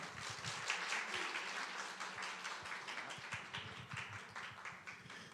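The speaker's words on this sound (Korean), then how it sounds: "박수로 맞이하겠습니다" Soft, distant clapping from a church gathering's audience welcoming a pastor, a faint steady patter of many hands continuing for several seconds.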